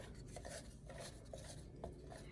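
A spatula scrapes down the sides of a blender bowl holding semi-liquid homemade Nutella of chopped nuts and melting chocolate, several soft scraping strokes, faint and close, with no talk.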